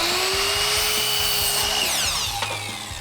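A power saw rips 1x3 wood into strips, its steady loud whine holding nearly the whole time before the pitch drops as the cut finishes.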